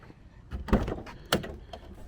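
The exterior door handle of a BMW E36 convertible is worked twice, giving two distinct mechanical clacks of the latch about half a second apart, close to the listener, with no talking.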